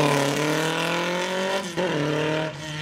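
Tiga SC84 race car at the Leyburn Sprints in Queensland screams loudly past on the track, its high-revving engine note sliding down as it shifts gears, with no speech.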